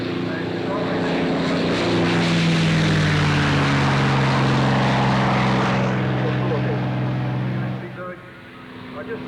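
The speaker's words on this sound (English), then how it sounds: "There's these two Mustangs taking off." Two P-51 Mustang warbirds take off at the 1994 Warbirds Over Wanaka airshow in New Zealand, their piston engines a loud, steady droning roar that holds for several seconds before easing off near the end.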